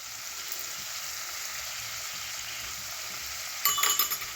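Fresh washed coriander stems frying in hot oil in a pan for a chutney, a steady close sizzle throughout with a brief metallic clink near the end.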